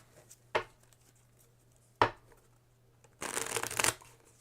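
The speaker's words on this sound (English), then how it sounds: "I will give you 3 cards to shuffle." A few cards are handled for a board game, with two short sharp snaps of playing cards followed by a dense riffling shuffle lasting about a second, close and fairly quiet.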